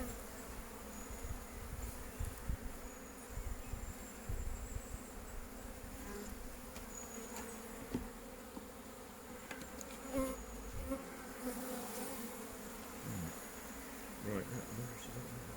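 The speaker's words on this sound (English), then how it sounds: "There's a lot of bees on it, so they've still got work to do." Many bees buzz softly and continuously nearby, a faint droning hum with scattered passes of individual insects.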